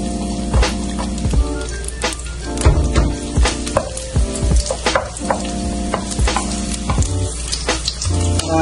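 Onions and garlic fry in hot oil in a pan, a loud continuous sizzle with crackles and repeated stirring scrapes and clinks, close up, with no voices.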